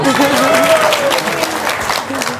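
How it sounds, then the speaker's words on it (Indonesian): An audience at a religious talk claps in a brief burst, a busy patter of hands beneath a voice that keeps speaking over it throughout. "Tepuk tangan dong."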